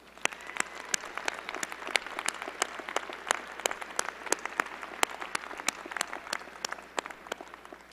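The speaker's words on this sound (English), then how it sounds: "Graduates, please join me in giving them a round of applause." At a business school graduate commencement ceremony, graduates clap for their families and supporters. The claps come as a scattered, uneven patter of distinct hand claps, moderately distant, continuing steadily for several seconds.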